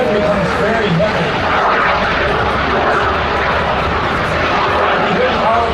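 An aerobatic airplane at a riverfront airshow roars loudly and continuously as its engine powers through a turn, a steady, close drone with no breaks for the whole stretch.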